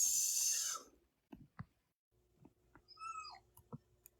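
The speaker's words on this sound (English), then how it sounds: "It's a puppy." A puppy whimpers faintly in a quiet room, with a few soft high whines and brief snuffles separated by pauses.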